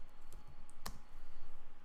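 A few sparse clicks on a computer keyboard during spreadsheet formula entry, with one sharp, distinct keystroke standing out over a low background hum.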